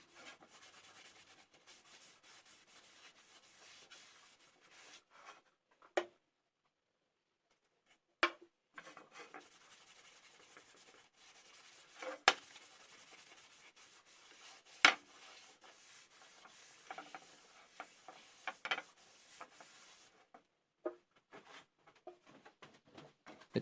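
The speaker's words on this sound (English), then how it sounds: "I'm applying some sanding sealer in preparation for finishing" Sanding sealer is rubbed onto a wood-turned bowl by hand, giving a soft, continuous scrubbing sound punctuated by occasional light clicks and taps, faint and close with no talking.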